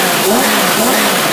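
Small engine fitted with a Predator carburetor revving hard and close, a loud, continuous buzzing roar holding steady through the short burst.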